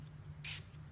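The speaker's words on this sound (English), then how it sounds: "So I'm going to go ahead and spray my medallion." A spray bottle gives one short, crisp hiss as it mists pearl solution onto a watercolor medallion, against a quiet low hum with no talking.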